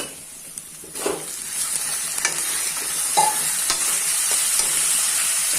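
Chicken pieces go into a pan of onions that have fried for about two minutes, and a steady frying sizzle follows with stirring scrapes and a few clinks close by. No one speaks.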